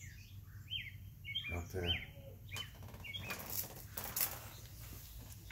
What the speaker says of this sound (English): There's a dove and some starling.